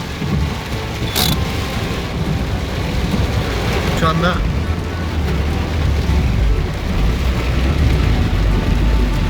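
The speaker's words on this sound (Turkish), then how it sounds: "Öyle bir yağmur yağıyor ki." Dense, continuous downpour roaring close by, with low rumbling underneath and a brief voice speaking Turkish partway through.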